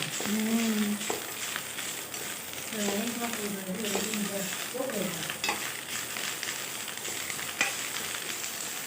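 Ingredients sauté in a hot pan on a stove, a continuous sizzle with stirring scrapes throughout while someone talks over it.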